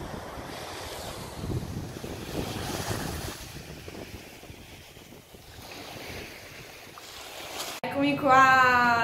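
Strong wind roars and gusts over surf for several seconds, buffeting the microphone, before a voice starts speaking at the end.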